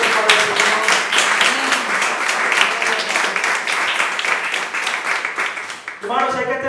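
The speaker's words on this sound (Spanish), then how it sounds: "Fuerte el aplauso para el Señor." Congregation applauding during a Spanish-language church service, rhythmic clapping in steady pulses with voices and singing mixed underneath, a voice rising clearly at the end.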